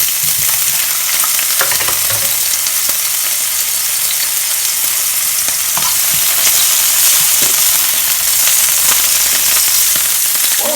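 Prawns sizzle and crackle in hot olive oil in a pan, a loud, steady frying hiss with scattered sharp pops throughout.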